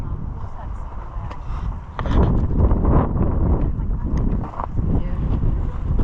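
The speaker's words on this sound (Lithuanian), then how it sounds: "Čia jau vėjas didesnis." Strong wind buffeting the microphone in a Utah canyon near Bryce Canyon National Park, a low, rumbling roar that swells and gusts louder after the first couple of seconds and keeps blustering throughout.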